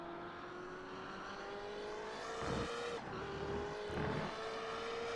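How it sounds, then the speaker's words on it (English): A BMW M8 race car in the iRacing sim racing game drones at steady engine pitch, then shifts and growls louder twice with brief tire noise, fairly faint and without voices. "Just listen to that engine."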